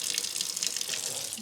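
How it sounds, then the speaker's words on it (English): Tap water runs steadily while houseplants are rinsed, giving a constant hissing splash at moderate, fairly quiet level with no break. "Just give them a little rinse through here."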